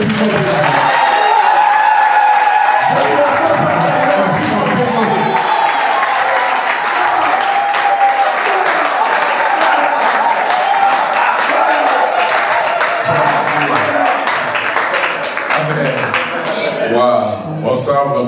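Wedding guests at a sixteenth wedding anniversary party applaud and cheer for a singer, a dense, steady roar of clapping and crowd noise that lasts throughout, close and loud.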